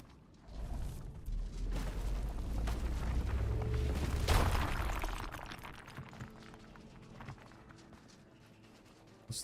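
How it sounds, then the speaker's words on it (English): A rumbling explosion in the video game Runescape: Dragonwilds swells into a loud, sustained low roar with a sharp peak about four seconds in, then fades into quieter game ambience. "Explosion here."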